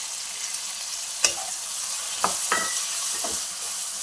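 Cucumber chutney ingredients frying in a pan at home, a steady hiss with a few sharp scraping stirs of a spoon against the metal, close and alone with no talk.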